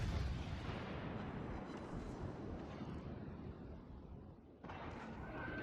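A torpedo strike explodes in World of Warships: Legends, with an HMS Edinburgh cruiser in the match, heard as a faint, rolling broadband rumble that fades slowly before a sudden change in the sustained roar near the end.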